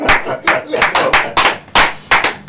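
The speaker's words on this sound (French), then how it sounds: "Je sais pas si on doit applaudir." A small audience in a TV studio claps sparsely behind the scenes of a broadcast, with about eight distinct, fairly close claps spaced irregularly and no steady applause.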